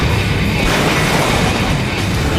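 Rocket blasts and crashes in the car-combat racing video game Full Auto, a loud, continuous wall of booming explosions and roaring noise with no pauses, alone without talk.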